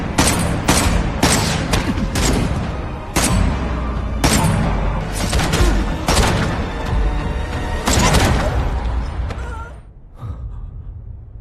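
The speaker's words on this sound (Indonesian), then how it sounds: "dia pun akhirnya turun gunung dan langsung menghujani Lee Do dengan peluru." Dense bursts of automatic gunfire in an action film shootout, loud and close, volleys crackling in repeated sharp clusters over several seconds before a short quieter gap, with gasps mixed in.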